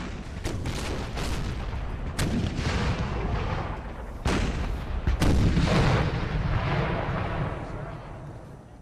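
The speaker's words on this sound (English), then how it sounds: "Heavy cannon!" Booming cannon and artillery blasts crack repeatedly over a constant rumble of battle, loud and close, with voices mixed into the game din of Empire: Total War.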